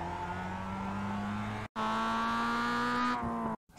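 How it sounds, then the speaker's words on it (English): A Mazda MX-5 accelerating out of a corner at Okayama in iRacing, the engine revving upward through a gear change with a short gap, loud and close, then cutting out briefly near the end. "hit the throttle for a short sprint towards the next turn"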